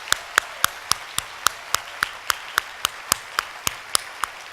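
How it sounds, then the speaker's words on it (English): Hands clap at an awards event, a single steady, evenly spaced clapping beat of sharp, fairly loud claps repeating about four times per second, with no crowd roar filling in between. "give these folks a round of applause."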